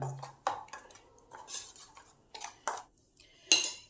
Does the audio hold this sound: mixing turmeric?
yes